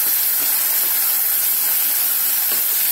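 Tomato puree frying in onion masala in a kadai gives off a loud, constant hiss and sizzle, close and unbroken for the whole few seconds.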